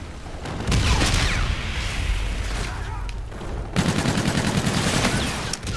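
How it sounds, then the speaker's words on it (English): Rapid machine-gun fire in Call of Duty: Infinite Warfare gun game, loud continuous bursts with booming impacts, a steady rattling stream in the second half, voice talking over it. "Dang it, keep getting shot from behind."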